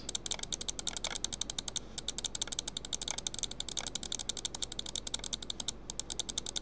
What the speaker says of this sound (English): This is just ASMR for yous who like clicking sounds